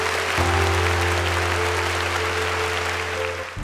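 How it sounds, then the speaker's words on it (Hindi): Long, steady applause from listeners at a storytelling fair, a broad wash of clapping that holds evenly over a low continuous hum before tapering off at the end. "आखिर में देर तक तालियों की गूंज सुनाई दी"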